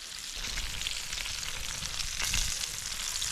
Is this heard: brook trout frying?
yes